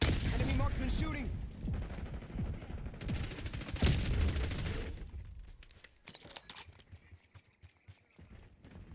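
Rapid bursts of gunfire crackle through a Black Ops 6 match on Nuketown, loud and dense for the first five seconds, then thin out into scattered distant shots and movement noise.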